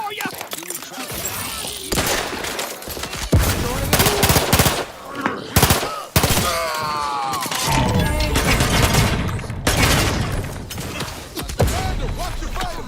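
Rapid automatic gunfire and bursts in The Outer Worlds 2, loud and near, with scattered single shots, crashes and a booming hit, while game characters shout and talk over the fighting.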